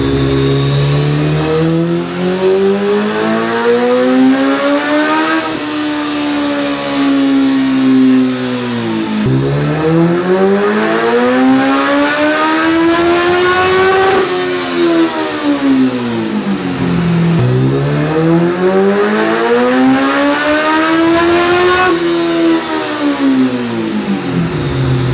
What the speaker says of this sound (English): this is going to be our first dyno test in the new location